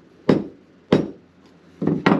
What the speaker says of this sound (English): just taking a block and the mallet or a hammer, either way, and just tapping this